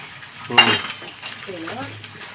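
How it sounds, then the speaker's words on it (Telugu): Mustard seeds frying in a pan for pulihora, a quick burst of popping and scraping as they are stirred, followed by softer sizzling and a brief voice. "ఆవాలు వేస్తున్నా."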